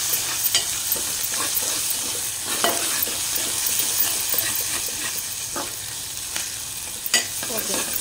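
Turmeric, ginger and spices for a small bitter gourd curry frying in oil, a continuous close sizzle broken by several sharp stirring scrapes and clinks across the stretch, no talking.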